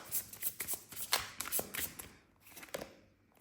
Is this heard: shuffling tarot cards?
yes